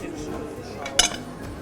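A frying pan is set down on a stovetop with a single sharp metallic clink partway through, amid faint kitchen handling noise while rabbit stew is prepared.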